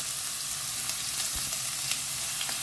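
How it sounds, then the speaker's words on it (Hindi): Three chopped onions frying in hot oil in a home kitchen, a continuous even hiss of sizzling with faint crackles and no voices. "तो अब इसमें डालते हैं 3 प्याज, जिसको ना मैंने चॉप कर लिया है।"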